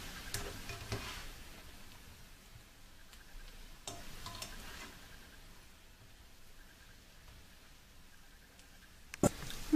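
Mushrooms sautéing with browned onions in a pan, a quiet steady sizzle with scraping stir strokes near the start, middle and end, the last few louder.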